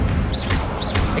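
Incendio fire spell cast in Hogwarts Legacy, a short, loud rushing burst of flame with quick swooshing flares over a dense noisy bed.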